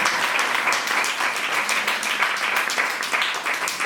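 A church congregation bursts into sustained applause, dense steady clapping filling the room from start to end without pause.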